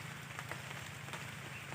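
Steady rain falls outdoors during a harvest in cool weather, a dense, continuous patter on surfaces with no voices, faint and even throughout.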